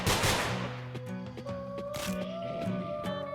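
Gunfire in the video game Nongunz: Doppelganger Edition, a loud opening blast followed by scattered sharp shots and bursts over electronic tones and background game audio.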